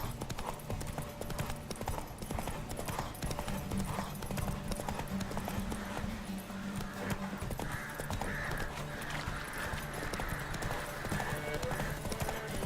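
Horse hooves clip-clop in a steady rhythm in the video game The Witcher 3: Wild Hunt, over a constant background hum, with a brief whinny-like tone midway and no clear speech.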